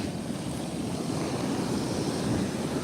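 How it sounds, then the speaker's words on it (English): Steady ocean surf washes and rumbles in a continuous broad roar, with some wind noise on the microphone and no voices. "relaxing with the surf and the waves, the sound of the ocean"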